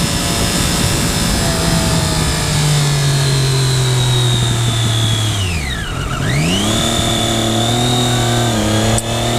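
A 2013 Triumph Daytona 675R motorcycle engine hums steadily and loudly while riding, its pitch dipping sharply then climbing back as the throttle rolls off and on, heard close with no talking.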